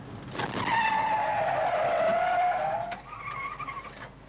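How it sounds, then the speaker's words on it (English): A car with locked rear tires skids into a sharp 180-degree spin, a loud sustained tire squeal falling in pitch for nearly three seconds, then a shorter, quieter screech as it finishes turning. "lock the rear tires, and then you turn the steering wheel sharply to the left, causing the tires to break away in a spin of 180 degrees"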